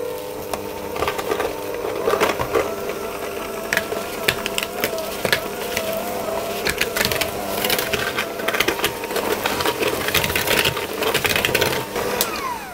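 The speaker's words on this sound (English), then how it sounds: "I'm doing this with the hand mixer" Electric hand mixer creaming butter and sugar for a boozy Christmas cake, a continuous buzzing whir with frequent clattering knocks as the beaters hit the bowl, steady and close throughout.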